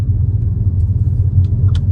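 A Ford Mustang SN95 rolls through a small town with a low, steady engine rumble heard from inside the car, broken only by a couple of faint clicks and no talk.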